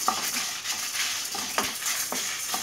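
A spoon stirring lentils, black pepper, cumin and dried chilies being dry-roasted in a pan for curry leaf powder, giving soft scraping and rustling with a few clinks, close and steady.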